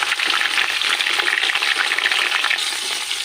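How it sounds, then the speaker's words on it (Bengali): Potato pieces frying in hot oil until reddish-brown for a chicken roast: a dense, steady crackling sizzle, close and loud, with no voices. "এই তেলেই আলুগুলো ভেজে তুলে নেবো আগে। লাল লাল করে ভেজে তুলে নেব।"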